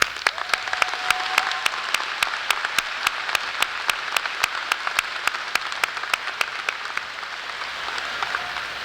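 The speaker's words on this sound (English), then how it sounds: "Please join me in a round of applause for all of these students who have achieved academic excellence and or made a commitment to serving their community" The audience at the Davison High School 2011 graduation applauds the students with a sustained wash of crowd clapping, while one nearby pair of hands claps sharply in a quick, regular rhythm on top.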